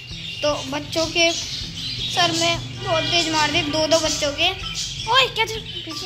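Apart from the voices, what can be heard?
small caged birds chirping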